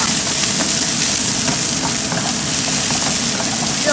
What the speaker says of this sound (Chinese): 把这个葱炒香来